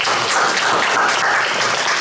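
Sustained applause fills a school board meeting for the Pickens County Board of Education, a dense, steady wash of many hands clapping at close range with no voices over it.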